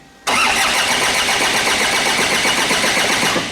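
A Ford Ranger (Mazda BT-50) engine with a no-start fault cranks steadily after an abrupt start, giving a loud, continuous rhythmic churning that does not catch. No one speaks.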